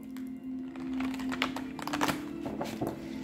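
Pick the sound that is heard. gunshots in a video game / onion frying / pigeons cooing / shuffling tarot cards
shuffling tarot cards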